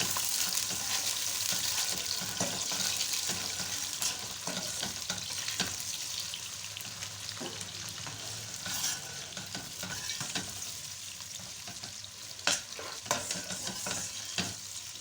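Chopped onions fry in a karahi over an open flame while being stirred, producing a sustained sizzle with scattered spatula knocks and scrapes against the metal, close and without speech.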